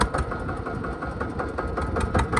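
A tractor engine idles steadily with the clutch engaged, a continuous low mechanical rumble with a faint rhythmic throb, close and fairly loud throughout.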